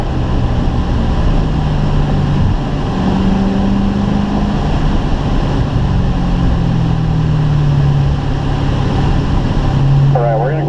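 A Corvette on the Spring Mountain race track accelerates as its engine drones loudly and steadily from inside the car, rising slightly in pitch, while someone talks over it throughout.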